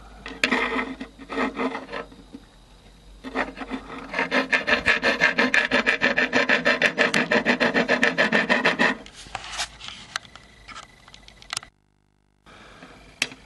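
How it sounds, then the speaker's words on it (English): A round file rasps in quick, even back-and-forth strokes, enlarging a hole in the face of a vintage 1912 clock, close and fairly loud, with shorter bursts of filing and handling knocks before and after. "I'm going to use a round file, and I'm just going to gently enlarge the hole slightly until it works"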